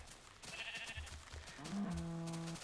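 Sheep bleating on a farm in a video game, several short calls followed by a longer sustained bleat near the end, faint and alone.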